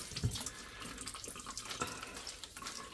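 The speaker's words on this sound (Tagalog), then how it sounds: "Lalo kung running water naman, mabilis lang tong hugasan." A kitchen tap runs steadily as vegetables for kimchi are rinsed under it, a continuous close splashing with small bursts of water against the produce and sink, no voices.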